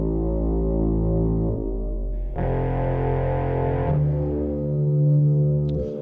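A low reece synthesizer bassline built in Logic, a thick, buzzing, detuned drone for drum and bass or dubstep, shifting pitch and brightness in sustained held notes with a hum-like growl and no voices.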